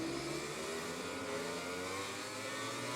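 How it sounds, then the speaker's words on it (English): Motorcycle engines rev at a rainy Red Bull Ring race start in the MotoGP 20 video game, a continuous dense whirring roar with rising engine tones, steady and fairly loud, no talk. "So here's Stone revving up then."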